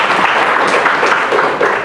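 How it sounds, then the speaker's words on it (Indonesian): Loud, dense applause from an audience at a farewell gathering fills the moment, sustained clapping without a break. "Semua tepuk tangan dulu untuk Bu Titin."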